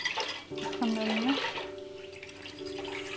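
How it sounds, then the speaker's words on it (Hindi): Water poured into a cooking pot for kadhi, a steady splashing gush close by that tapers off, with a voice speaking faintly underneath. "इसमें हम थोड़ा पानी डालेंगे, पानी तो बहुत सारा इसके अंदर चाहिए, कम से कम 1 लीटर"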